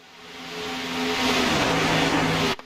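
Xfinity Series stock cars race out of turn four at Daytona International Speedway in the late laps of a 250 race, their engines building into a loud, close, blended roar with droning tones before cutting off abruptly.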